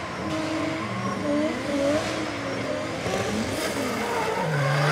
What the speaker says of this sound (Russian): Практика. Первые тренировочные заезды по трассе.